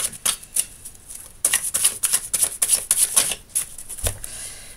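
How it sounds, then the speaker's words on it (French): A deck of tarot cards is shuffled and cut, giving a run of crisp riffling flutters and soft card slaps close by, ending in a dull thump as the deck is set down. "battre le jeu. Je vais couper."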